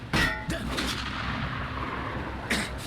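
Sniper shots ring out in the video game Metro Exodus: a loud, booming report near the start with a long echoing tail, then a second sharp shot near the end.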